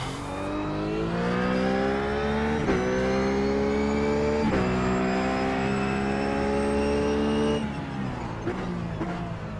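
Ruf GT3 race car engine in iRacing at Sonoma, a loud, steady high-revving drone with strong harmonics that rises through the gears, with brief dips at each upshift and a lift near the end.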